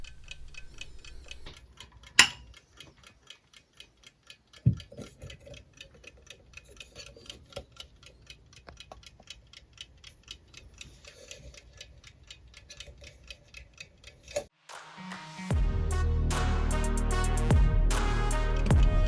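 A Sternreiter mechanical key-wound alarm clock ticks with a steady, fast, quiet tick-tock and a couple of sharp clicks. Near the end a loud, harsh mechanical bell alarm breaks in and keeps ringing.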